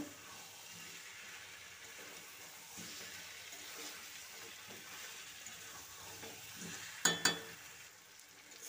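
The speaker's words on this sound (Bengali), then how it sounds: "আলু দেওয়ার পর আবারও একটু কষিয়ে নেব।" Potatoes already fried, with spices, being stir-fried in a pan for Bengali aloor dom, a steady soft sizzle with scraping stir strokes and two sharp clinks near the end.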